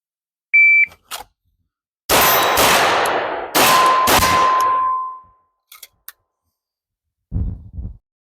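Handgun shots ring out at an outdoor range, each followed by loud metallic clangs from steel targets, paired pops and long ringing decays spaced across several seconds, with a short beep at the start.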